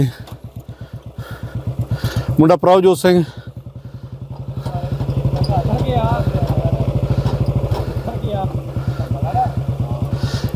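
A Royal Enfield Bullet motorcycle thumps steadily with its slow, even single-cylinder beat close by, briefly rising in a throttle blip, on a rough route near Himachal Pradesh, while someone talks over it.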